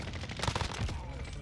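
Gunshots in Call of Duty Warzone, a short cluster of quick cracking shots at moderate loudness followed by a fading tail.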